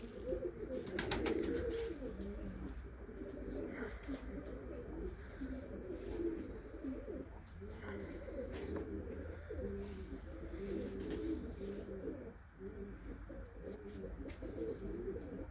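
Young game pigeons coo softly and repeatedly while feeding outdoors, low rolling calls overlapping at a quiet level.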